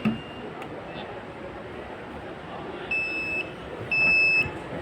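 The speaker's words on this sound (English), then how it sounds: "If somebody comes within 6 feet distance, the alarm sound comes in buzzer." An ultrasonic sensor alarm at a science exhibition, triggered by someone within 6 feet, sounds a high electronic buzzer beeping in two short bursts over faint background noise, with a quieter tone early on.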